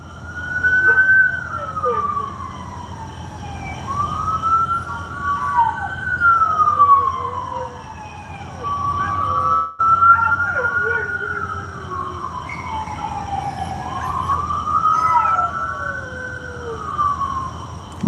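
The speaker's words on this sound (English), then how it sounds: "Y'all guys hear the siren and the neighbor's dog howling to the siren?" An emergency siren wails in slow rising and falling sweeps, repeating several times at steady volume, with a dog faintly howling along underneath.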